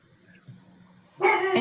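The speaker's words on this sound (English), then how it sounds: "I can just hear a dog." A dog barking as heard over a microphone during a town hall session: a short, sharp bark burst near the end, following quiet background room noise and a faint yip.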